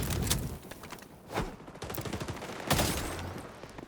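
Rapid gunfire in XDefiant, a shooter game, with several sharp bursts of shots standing out over a busy background of distant firing.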